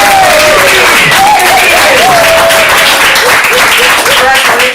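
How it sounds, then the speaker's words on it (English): Loud applause from a comedy improv audience honoring the red team captain, with some cheering voices over steady clapping throughout. "Big applause for the red team captain!"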